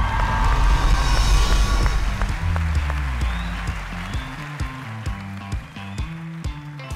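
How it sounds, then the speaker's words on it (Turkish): Studio audience applause on the Turkish TV talent show O Ses Türkiye, loud sustained clapping and cheering that thins out, with a music cue stepping in rhythm underneath as it fades. "Niye Murat dönünce o kadar alkışladın ki?"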